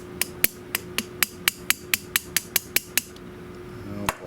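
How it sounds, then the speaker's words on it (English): A screwdriver tapping against the stator of a 1923 16-inch GE AOU loop-handle fan on a bench, about a dozen sharp, evenly spaced metallic strikes close up, then a final knock after a pause. "I gotta find a point where I can poke it with a screwdriver without damaging the coil."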